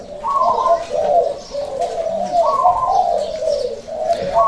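Caged birds coo continuously at close range, the soft rolling calls repeating and overlapping in a steady rhythm with a few faint chirps, with no talking.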